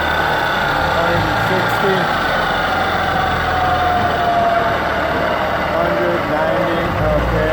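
A 3 horsepower KBC 30VS variable-speed vertical milling machine head runs in low gear, giving a steady, loud mechanical hum and whine throughout while someone speaks over it.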